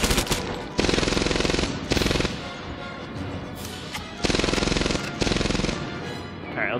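Gunfire in the video game Medal of Honor: Airborne, loud bursts of rapid automatic fire in several long volleys separated by brief gaps of softer background shots and rumble.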